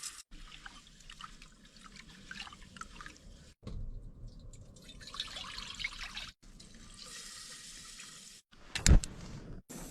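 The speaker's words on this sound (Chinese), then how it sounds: "刚才烧了壶水，用这个开水冲洗一下" A cooking pot being rinsed with freshly boiled kettle water at an evening mountain-valley campsite, with intermittent bursts of pouring and splashing separated by brief pauses and a sharper clank near the end.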